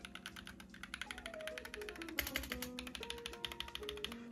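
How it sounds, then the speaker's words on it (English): Rapid, clacky typing on a custom mechanical keyboard, keystrokes tumbling quickly and continuously, close up, with faint music underneath. "So yeah, this is a custom keyboard."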